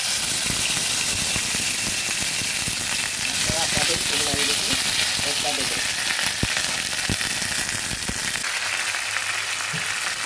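Whole cumin seeds and ginger paste sizzling in hot oil in a pan, a loud steady crackling hiss with scattered pops and stirring, while someone talks over it.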